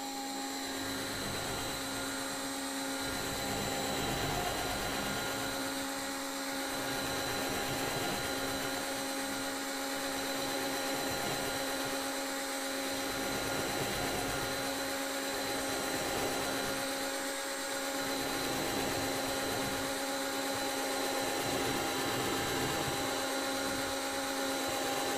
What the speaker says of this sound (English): going to turn the drill on and put the knife between the two grooves